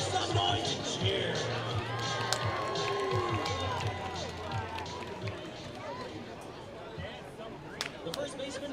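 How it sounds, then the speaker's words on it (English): Minor-league baseball crowd at a Saturday evening game, Boise Hawks against Oakland Ballers, with a steady wash of cheering, chatter and general noise from fans filling the stands, moderately distant and continuous throughout. "make some noise and cheer"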